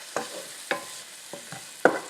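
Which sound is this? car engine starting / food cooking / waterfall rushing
food cooking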